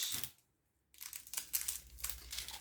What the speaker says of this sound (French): Un petit morceau de scotch.